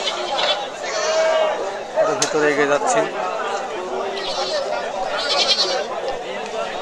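Native breed goats bleat in short, wavering calls at a Sunday goat market, several animals close by amid a crowd's chatter, while someone talks over the scene.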